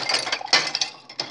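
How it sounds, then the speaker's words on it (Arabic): Freshly washed dishes, with glassware rinsed in vinegar, clinking and squeaking in a kitchen as they are handled: a run of close, bright clinks and rubbing squeaks with short pauses between them. "شايفين المواعين بتزيق"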